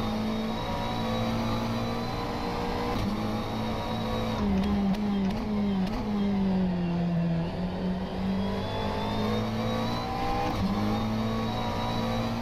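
A McLaren race car engine in the rFactor 2 racing simulator drones steadily and loudly, its pitch swinging up and down through gear changes and corners, with no voices.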